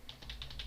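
Keys clatter on a computer keyboard as code is typed, about six quick close taps in under a second, with no voice over them.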